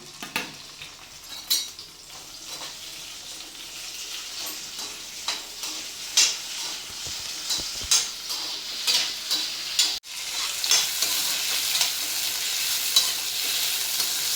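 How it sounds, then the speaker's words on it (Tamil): Tomato, ginger, green chili, onion and curry leaves sautéing for a fish curry, a continuous bright sizzle with rhythmic scraping stirs of a spoon against the pan, close up and alone. "ரெண்டு தக்காளி ஒரு சின்ன த துண்டு இஞ்சி ரெண்டு சின்ன பச்சை மிளகாய் நாலு வெங்காயம் கருவேப்பிள்ளை அதை மட்டும் போட்டு நல்லா வணக்கிக்கலாம்"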